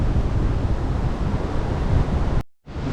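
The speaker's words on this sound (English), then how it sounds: "It's a little windy right now" At a wilderness campsite in the Atikaki, strong wind buffets the microphone in a loud, continuous roar that suddenly cuts out near the end before returning.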